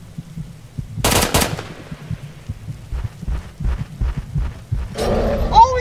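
Gunfire in the Roblox Bigfoot game, sharp bursts of shots followed by a series of dull thumping impacts at a loose rhythm, with a burst of noise near the end.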